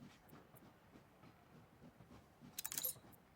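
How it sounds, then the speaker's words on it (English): Train rolling through a town in the video game Anno 1800, soft rhythmic rumbling with faint clanks, then a brief bright metallic jangle near the end, distant and quiet, with no voices. "It's actually nice seeing a train go through here now."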